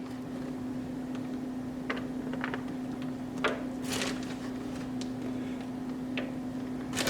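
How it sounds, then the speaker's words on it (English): A kitchen refrigerator hums steadily in the background, a constant low drone that runs throughout, with scattered light clicks and clatter from food preparation on top. "I know y'all hear my refrigerator back there"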